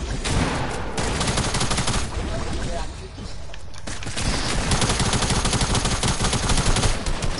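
Dense rapid gunfire from a squad-based shooter video game, sustained bursts of automatic fire that barely pause, with players' voices talking over the shooting.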